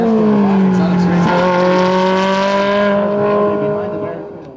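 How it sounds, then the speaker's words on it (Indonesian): A toy race car being played with gives a loud, sustained whining engine-like tone with a screeching edge, holding steady for several seconds before fading slightly at the end. "lihat teman-teman, yang ini mobil balap."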